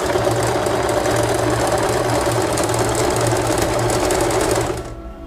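Usha Janome sewing machine running an overlock stitch, a loud, close, rapid rattling whir held steady until it stops abruptly near the end.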